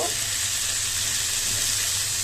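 Chopped potatoes hit a hot pan of beef shutki and set off a loud, steady sizzle and frying hiss that holds at a constant level, close up, with no voices.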